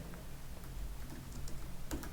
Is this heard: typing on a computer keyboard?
yes